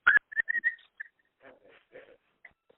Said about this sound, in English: someone has an open mic and we hear clanking and whistling and things